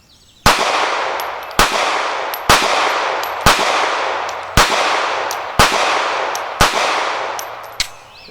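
Seven sharp, loud shots from a Kahr P380 pistol fired one-handed at a range, each crack followed by a long ringing echo, spaced roughly one second apart with faint metallic pings between.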